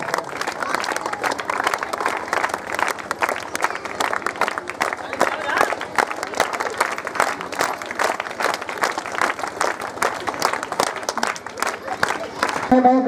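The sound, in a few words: audience applauding a guest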